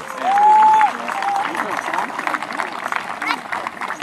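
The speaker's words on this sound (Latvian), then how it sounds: "Ar aplausiem sagaidām mūsu miltkalniekus!" A crowd claps in welcome for performers at the 2016 summer solstice festival in Smārde, Latvia. Dense, steady clapping carries on outdoors amid some crowd noise and a brief whistle.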